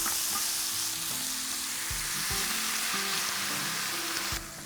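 Prawns sizzle and crackle steadily in a hot pan, a dense continuous frying hiss with several low knocks as they shift or are stirred, loud and close with no talking.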